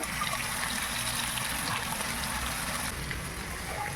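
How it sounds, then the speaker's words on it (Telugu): Tamarind water is poured into a simmering fish curry, a brief steady trickle and gush of liquid heard close and fairly quiet, with no voices. "ఇప్పుడేమో చింతపండు ఏమో వేసుకుందాము"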